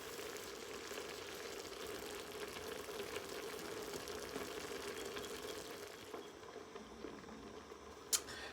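Spaghetti sauce with tomato paste simmers in a pan, giving a soft, steady bubbling and patter that stays faint and continuous, with one brief sharp tick near the end.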